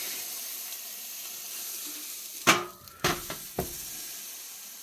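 Meat searing in a pan gives a steady low sizzle throughout, broken by a few sharp louder hisses and clatters near the end as the food shifts on the hot surface.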